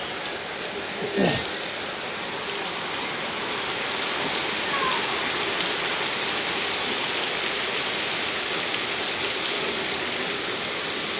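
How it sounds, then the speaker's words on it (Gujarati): Steady heavy rain pours down in a dense, continuous hiss, with a brief thud near the start and no voices. "બરોબર વરસાદ ચાલુ થઈ ગયો છે"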